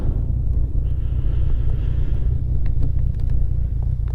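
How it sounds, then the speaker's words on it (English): Heavy, steady wind on a cliff roars and buffets against the microphone in a constant low rumble, with no voices heard. "Extremely windy up here"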